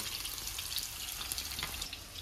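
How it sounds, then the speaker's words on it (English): Onion frying in oil for chowmein, a steady faint hiss and sizzle with small crackling pops, heard alone and close. "First put the oil inside and fry the onion."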